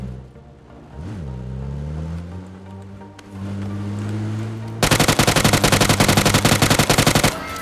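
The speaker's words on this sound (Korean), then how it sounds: "UMP? 진짜로? SMG라서 반동이 없어요" A UMP submachine gun fires in a video game, a long rapid automatic burst that rattles on loudly to the end. It follows several seconds of a droning engine-like hum.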